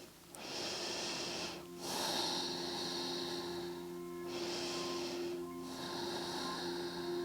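Slow deep breaths during a yoga neck stretch, three long airy inhale-exhale cycles close to the microphone, quiet and unhurried over a faint steady background hum.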